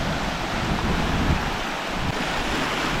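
Sea waves churn and foam against a rocky shore, a dense continuous roar of surf with wind buffeting the microphone, loud and steady without pause.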